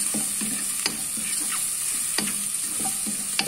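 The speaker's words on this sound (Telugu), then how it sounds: "ఇలా బాగా ఫ్రై అయినాయి కదా," Mushrooms seasoned with salt, black pepper and chilli powder fry in a pan with a soft, even sizzle, while a spatula scrapes and taps at irregular intervals.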